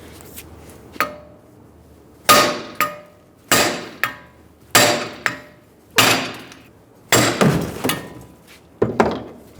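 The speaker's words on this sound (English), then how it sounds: "use our second hammer and we're going to hit on the back of this one and we're going to drive the hub out" Hammer blows on the back of a front steering knuckle from a 2007-2011 Toyota Camry drive out the wheel hub: about nine loud, sharp metallic strikes, spaced roughly a second apart, each with a short ringing decay.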